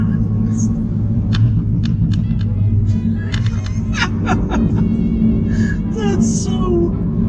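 A Ford Focus RS engine heard from inside the cabin, a loud, constant low rumble filling the whole stretch while people inside the car speak over it.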